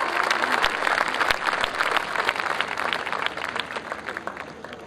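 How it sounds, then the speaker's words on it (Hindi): Loud audience applause welcoming a poet at a Hindi kavi sammelan poetry gathering, dense continuous clapping from a crowd that stays strong before easing slightly at the end. "तो जोरदार तालियों से स्वागत उनका।"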